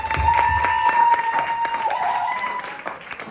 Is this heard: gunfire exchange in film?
no